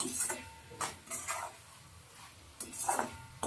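A utensil scrapes and clatters against a pan while pointed gourd curry is stirred, giving several irregular close strokes and knocks with quiet gaps between them.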